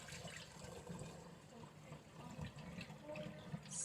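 Kefir poured slowly through a funnel and fine mesh strainer into a jar gives a steady, soft liquid trickle at close range, low and continuous, with faint room noise.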